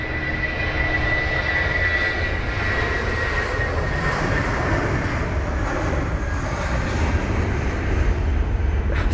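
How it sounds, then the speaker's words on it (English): An Airbus A320 fitted with sharklets departing London Heathrow in wet, spray-filled conditions, a loud, steady jet engine roar and whine holding close by throughout with no voices. "the A320 with the sharklets just about to pass the shot now"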